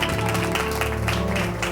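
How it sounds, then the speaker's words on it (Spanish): An audience at a live show applauds, a short, dense burst of clapping with music playing underneath and little speech. "¡Fuerte aplauso, hombre!"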